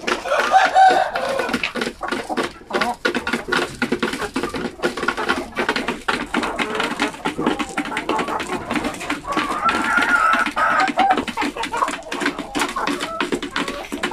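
Laying hens cluck and chatter continuously in a busy coop, with a rooster crowing now and then, close and fairly loud, with faint scratching and pattering underneath.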